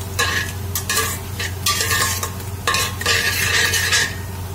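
Bitter gourd peels and seeds are stir-fried in a pan, with repeated bursts of spatula scraping and stirring over a constant sizzle and a low hum, close and loud, with no talking.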